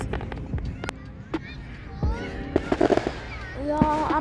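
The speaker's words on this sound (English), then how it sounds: "I must go back because I'm too close to that firework." Fourth of July fireworks exploding close by: a string of sharp pops and crackling bursts, loud and near, mixed with people and children talking.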